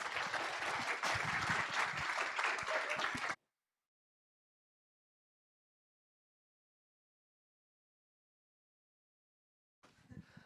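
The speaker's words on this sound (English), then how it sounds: "please give them a big round of applause" Audience applause for a group of graduate scientists at a live science talk event, dense and steady clapping for about three seconds before cutting to silence, with a brief faint noise near the end.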